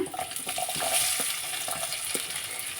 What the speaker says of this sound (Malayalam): നമുക്ക് നമ്മളെ മാങ്ങ ഇട്ട് കൊടുക്കേ